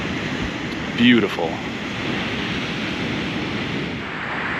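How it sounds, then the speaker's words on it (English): Surf keeps breaking against shoreline rocks on the Oregon coast at Yachats, a steady broadband roar throughout, with a brief spoken word near the start. "so the waves crash on them all the time"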